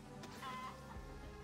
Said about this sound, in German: Ich höre einen Huhn!